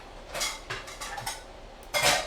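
A small sauté pan is handled in a home kitchen, giving a few separate metallic clanks and scrapes of cookware, close and fairly quiet, with one louder knock near the end and no talking.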